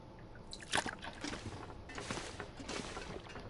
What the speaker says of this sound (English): While I'm here, I'm going to top up my water.